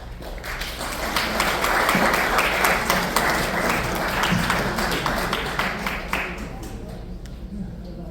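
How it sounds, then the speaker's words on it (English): An audience breaks into applause that swells for several seconds and then fades, with a voice speaking over it. "Give him another round of applause."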